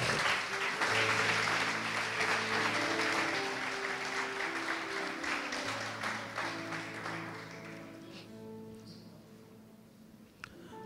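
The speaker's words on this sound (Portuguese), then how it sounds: "aplauda aí ao Senhor" Sustained applause from a church congregation fills the space over soft keyboard music, gradually fading toward the end.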